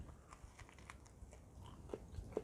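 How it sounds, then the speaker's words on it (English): Close, fairly quiet chewing and biting into a homemade keto burger bun that is crunchy outside and soft inside, with soft crackling crunches and a couple of sharper bites near the end, no talking. "The texture, it's crunchy on the outside and soft on the inside."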